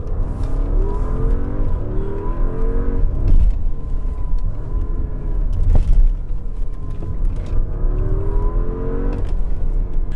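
A 2020 Porsche Cayenne Turbo is driven hard, its engine rising and falling in repeated rev sweeps with occasional thumps from the road, steady and close throughout with no talking.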